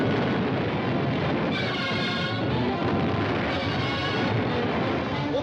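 Cannon fire from a fort in a 1942 film plays as a dense, continuous roar of booming blasts, loud and unbroken throughout.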